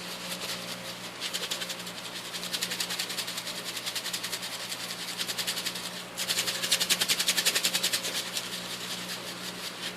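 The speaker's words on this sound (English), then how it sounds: "I'm just going to keep spinning it back and forth sideways, up and down a little bit." Charcoal grind screened in a Krom-Air shaker, producing a fast, even rattling over a constant low hum; the shaking pauses briefly partway through, then resumes louder and denser.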